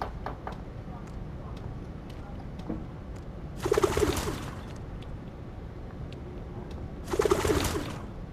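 Pigeons or doves coo in two short bursts, each about a second long, over steady background noise, with scattered faint clicks and a low hum between the calls.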